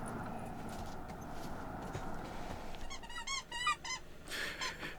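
A dog squeaks a Wubba toy inside a converted school bus, giving a run of short, rhythmic, high squeaks in bursts over a faint steady background hum.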